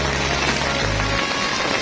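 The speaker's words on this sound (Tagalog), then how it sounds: "Lakas na yung ulan." Heavy rain falls steadily on a street, a dense continuous hiss with a low rumble underneath that drops away partway through.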